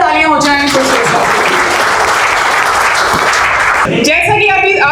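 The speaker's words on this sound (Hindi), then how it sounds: "एक बार जोरदार तालियां हो जाएं कुलचेर सर" Loud, dense applause fills a Republic Day school celebration, bracketed by a speaking voice at the start and again near the end.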